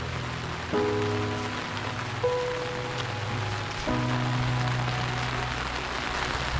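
Steady rain falls over a cemetery with old tombstones, a constant close hiss of drops on surfaces that continues without a break, with a few faint tonal hums underneath.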